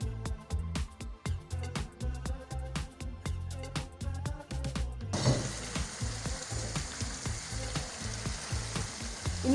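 Whole spices land in a pan of frying chicken: a run of sharp clattering taps first, then a loud, steady sizzle that swells and holds through the second half, with no talking.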